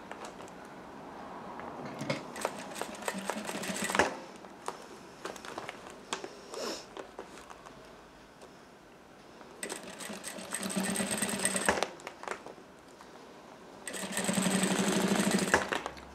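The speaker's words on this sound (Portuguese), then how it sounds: "Quanto mais próximo vocês deixam o agulhão do pezinho da máquina, mais perfeito vai ficando a colocação desse viés" A sewing machine stitches bias binding onto a clear transparent cosmetic bag, running in bursts of rapid mechanical whirring separated by pauses with handling noises, close and fairly loud.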